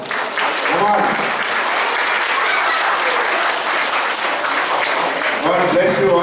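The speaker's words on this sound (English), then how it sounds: "I want you to just give one applause for all of yourselves" Parents and children applaud together at a Saraswati Puja gathering during Navaratri celebrations, a dense, steady roar of clapping that fills the whole stretch at close range, with a few voices calling out over it.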